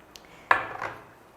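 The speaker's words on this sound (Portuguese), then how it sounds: "a gente vai pegar uma panela pequenininha" A small pan clinks and clatters against cutlery as it is picked up for poaching eggs in red wine, one sharp metallic knock followed by a short rattling handling noise, close and fairly quiet.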